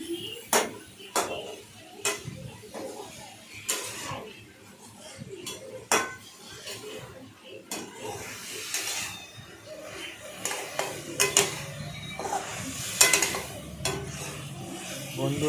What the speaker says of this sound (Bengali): কড়াইতে আলু পটল দিয়ে অল্প পরিমাণে হলুদ দিয়ে সেটাকে ভালো করে নাড়াচাড়া করলাম।